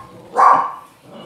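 A single loud dog bark rings out close by indoors, a short, bright bow-wow that swells and fades within half a second, with quiet room noise around it.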